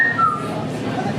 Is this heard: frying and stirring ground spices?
no